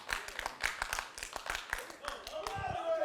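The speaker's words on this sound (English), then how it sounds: "Are we supposed to be clapping too?" Scattered hand clapping from a small crowd at a televised Gulf Coast wrestling show, sharp uneven claps close by, with people talking over and after them.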